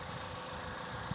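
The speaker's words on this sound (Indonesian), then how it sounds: "Dan ini suara mesinnya" A 2019 Daihatsu Sirion with a 1300cc four-cylinder engine idles steadily close by, giving a low, even hum with a faint irregular knock and no voices.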